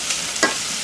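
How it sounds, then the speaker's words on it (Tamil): Chopped onions sautéing in a pan for Tamil vadacurry, a soft steady sizzle with a brief stir of the spatula near the middle, close and alone. "வெங்காயம் கொஞ்சம் நல்லா வதங்கி வரட்டும்."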